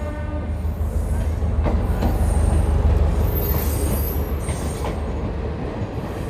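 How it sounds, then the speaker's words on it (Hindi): A MEMU passenger train, running nearly empty, rolls into a station at Hajipur, its steady rumble and wheel noise loud and close throughout, with faint squeals and clatter on top. "सामने किसी ट्रेन का शायद अराइवल हो रहा है"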